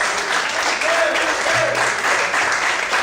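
Congregation applauding in an evangelical church service, a dense, loud spread of clapping filling the space, with faint voices and shouts mixed in underneath throughout.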